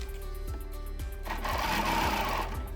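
Sewing machine quilting orange peel petal curves along a ruler: a steady mechanical hum with rhythmic needle thumps about twice per second, the motor growing louder and brighter midway through, close and alone.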